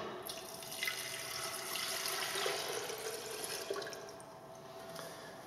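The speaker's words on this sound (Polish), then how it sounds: "odmierzamy litr wody, nalewamy do czajnika elektrycznego." A litre of water is poured from a measuring vessel into an electric kettle, giving a steady, close splashing pour that runs the whole time with no talk.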